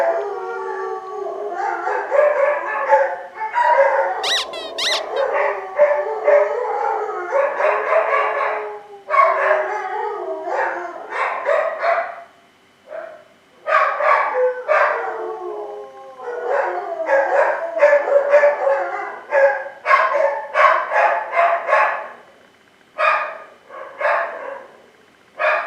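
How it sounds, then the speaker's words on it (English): Two dogs howl together in long, wavering, overlapping cries, joined by occasional yips and barks, close and loud with brief pauses between bursts. "So they're greeting me with their howls."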